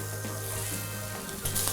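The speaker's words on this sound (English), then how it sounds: "Time to chuck the koftas in. Oh, hear that sizzle?" Lamb koftas sizzle loudly in a hot frying pan, a constant crackling hiss with a low hum underneath.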